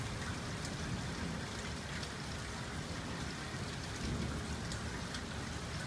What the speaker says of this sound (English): Just a good old-fashioned lightning storm.